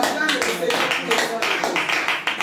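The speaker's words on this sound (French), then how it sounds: "Tu peux t'acclamer." A congregation at a Christian prayer vigil applauding together, a steady, lively wash of many hands clapping in rhythmic bursts, with voices mixed in.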